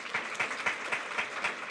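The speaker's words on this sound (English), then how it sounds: "With a big applause for the speakers here." Audience applause closing a plenary session of a general conference, steady moderately quiet clapping with soft periodic swells, no talk over it.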